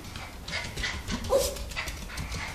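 A Yorkshire terrier whimpers softly, a faint brief whine over a low muffled background at close range.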